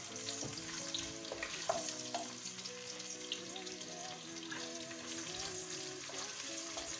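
Egusi and onion fry in a pot for Nigerian egusi soup, giving a continuous crackling sizzle close by while faint tonal voices and background household sounds run underneath.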